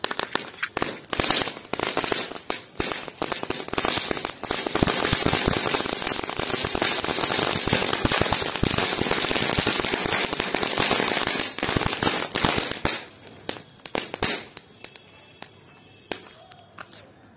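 A dense, loud barrage of crackling Diwali firecracker tablets, three lit together, pops continuously for several seconds, then thins out into scattered bangs and fades.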